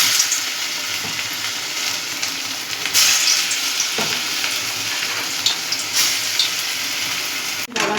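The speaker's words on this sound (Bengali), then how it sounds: "এবার বড়াগুলো আমি ছোট ছোট করে ভেজে নেব।" Small lentil and potato fritters fry in white oil, a continuous bright sizzle with occasional stirring knocks and crackles, close up and without speech.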